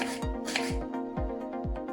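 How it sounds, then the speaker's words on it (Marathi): A knife chops onion on a board in a home kitchen, about four evenly spaced, close thuds over a faint background hum, with no voices. "कांदा चिरून घेऊया।"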